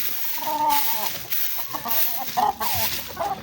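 Boston Sweater chickens cluck and murmur in a small backyard coop, several close, soft calls in irregular bursts with no talk over them.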